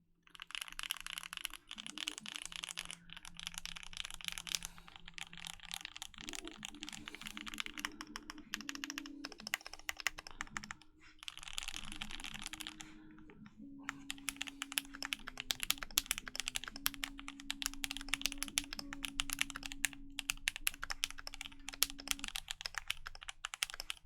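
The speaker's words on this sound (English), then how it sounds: "my typing on this is going to be terrible" Rapid clacking keystrokes on a mechanical keyboard, close and busy, with brief pauses between bursts and a faint background hum.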